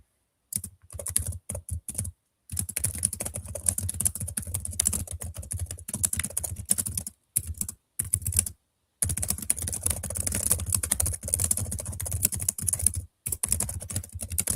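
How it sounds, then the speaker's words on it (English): Steady clicking of fingers on a computer keyboard, in bursts separated by short pauses, close and fairly loud, with no voices. "I'm just typing to see if I can find what I was looking for"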